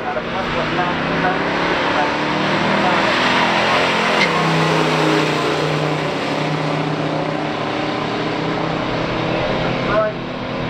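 A 1971 Plymouth Duster 340 and a 1970 Buick GSX run a stock drag race, their engines making a steady, loud roar that holds throughout with a sharp peak near the end, and crowd or announcer noise sits underneath.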